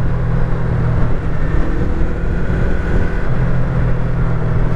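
Yamaha MT-03 2020 motorcycle engine pulling steadily in sixth gear at around 5,000 to 6,000 rpm, a loud continuous drone with wind rush and no speech.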